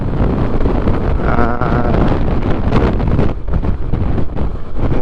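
Heavy wind roars across the microphone of a motorcycle riding in the motorcycle lane on EDSA, a loud continuous buffeting rush that dips briefly midway, with no one speaking.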